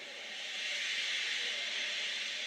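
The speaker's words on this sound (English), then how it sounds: "He just let off steam feebly." A steam locomotive lets off steam in a steady, broad hiss that swells slightly and holds for a couple of seconds, close and fairly loud with no voices.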